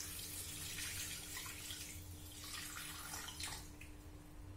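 Water poured steadily for a recipe, 220 g measured out, a soft continuous splashing stream heard close and faint for a few seconds with no talk.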